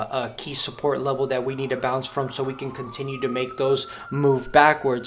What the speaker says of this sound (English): Sorry for that annoying siren that's in the background.